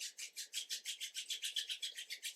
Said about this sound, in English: Begin to rub the palms of your hands together. Faster and faster,